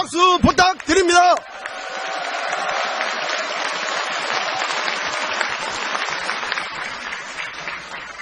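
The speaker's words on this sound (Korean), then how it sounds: "뜨거운 감사의 박수 부탁드립니다" Brief speech gives way to a long, steady round of applause from a large party convention crowd, an even wash of clapping that holds at a moderate level throughout.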